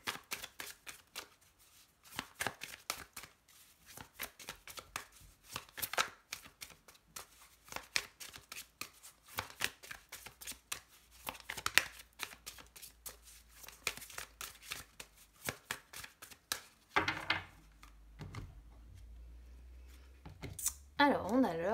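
A deck of oracle cards is shuffled and cut with soft, irregular riffling and slapping, repeated bursts of papery flicks close by, quiet overall, with brief handling noises toward the end.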